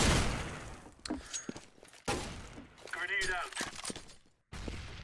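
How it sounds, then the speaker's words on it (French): Counter-Strike: Global Offensive match with a grenade blast and bursts of gunfire, sharp cracks and thuds with a ringing tone, while someone talks over the game sounds. "Petite grenade, pas mal"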